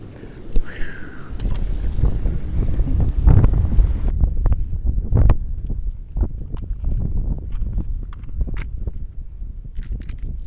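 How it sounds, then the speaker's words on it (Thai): Strong wind buffets the microphone while fishing on Songkhla Lake, a steady loud roar of gusts with water sounds and faint voices mixed in throughout. "ลมก็แรงเหลือเกิน"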